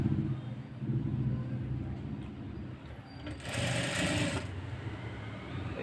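A sewing machine stitches the piping on a blouse, running in a steady whirring burst, pausing briefly, then starting again with a louder, faster run of stitches.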